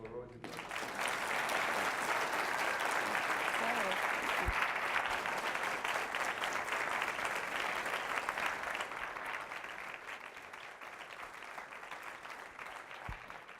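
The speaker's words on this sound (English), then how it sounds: "Please, one more round of applause for Rosian Zerner." Sustained audience applause at a Holocaust survivor's talk, following a sung anthem, rising quickly to a broad, full wash of clapping from a large crowd that carries steadily and fades slightly toward the end.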